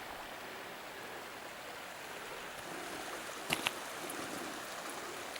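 A river in Morocco flows with a steady, even rush of water beside a roadside rest stop, with a couple of faint clicks partway through.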